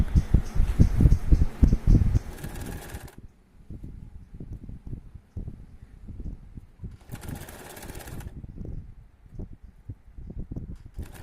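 A sewing machine stitches the neckline of a kurti in short bursts, a rapid mechanical whirr starting and stopping between pauses, close and fairly quiet, with fabric handling sounds in the gaps.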